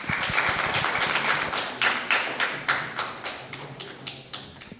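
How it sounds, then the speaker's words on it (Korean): An audience claps as a hospital director is welcomed to the stage for a health lecture on knee arthritis. Dense applause starts, then thins into a few rhythmic, spaced claps, fairly close and loud. "여러분 큰 박수 부탁드립니다."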